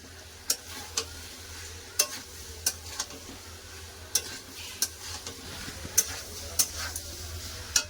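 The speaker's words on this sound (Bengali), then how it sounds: "মটর দিয়ে দেবো মশলার সাথে খুব ভালো করে সব কষে নেবো" Peas and spices being stirred and sautéed in a pan, with a quiet steady sizzle and a dozen or so sharp scraping ticks of a spoon against the pan at an uneven rhythm, close by and without speech.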